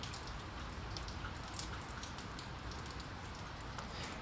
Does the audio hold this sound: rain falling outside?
yes